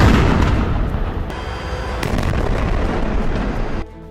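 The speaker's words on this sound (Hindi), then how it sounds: "इजराइल की सेना ने यहां मिले विस्फोटकों को उड़ा दिया" Explosives found by the Israeli army in northern Gaza are detonated, producing a loud, sustained roaring blast rumble with crackling debris that holds for nearly four seconds and then drops away abruptly.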